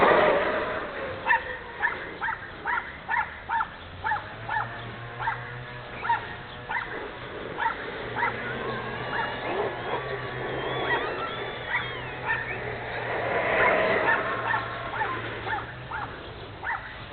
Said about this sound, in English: Always got to be a little yappy dog in a window.